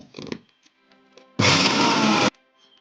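Mixer grinder whirring steadily for about a second as it grinds fried dried catfish and its fried head into a coconut chutney, loud and close, after a brief spoon clatter.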